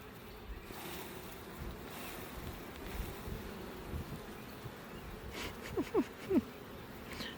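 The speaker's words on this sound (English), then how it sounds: "Whew, a lot more bees in this one." Honey bees swarm around an opened, thriving hive during an inspection, a steady low buzzing hum with a few sharper close passes near the end.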